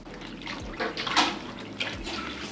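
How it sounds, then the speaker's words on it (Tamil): Water sloshes and splashes in a bowl as a cut ingredient for iral (dried shrimp) sambal is rinsed by hand, close-up irregular swishing with a few louder splashes and no voices. "இதில் தண்ணி ஊற்றி ஒரு 2 டைம் வாஷ் பண்ணி"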